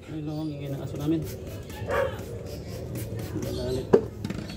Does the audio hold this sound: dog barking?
yes